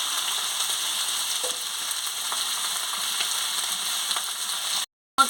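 Ivy gourd with chopped onion and turmeric fries in a pan, a constant bright sizzle with a few faint utensil ticks, cut by a short silent gap near the end.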